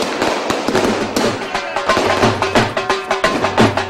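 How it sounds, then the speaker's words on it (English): Fireworks and firecrackers burst at a street celebration in Delhi, a dense, loud run of sharp cracks and pops firing in rapid, irregular succession, with voices faintly underneath. "How much money have you spent on the fireworks?"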